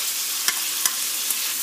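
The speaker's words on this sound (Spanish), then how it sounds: "Vamos a revolver." Onion, chiles de árbol and cilantro frying in leftover grease in a pan for charro beans, giving a constant bright sizzle with a few light stirring taps, close up and without voices.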